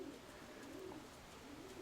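Pigeons coo in a low, repeated rolling call, a steady series of soft murmured phrases heard close and quite faint, with no talking over them.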